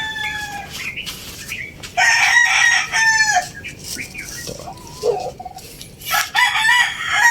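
Several roosters crow loudly and repeatedly over clucking hens, with a brief spoken word among the calls.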